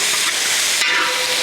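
Crushed ginger and garlic are dropped into hot oil for a chicken cutlet filling and give off a loud, close sizzle with a steady hiss, briefly lifting partway through.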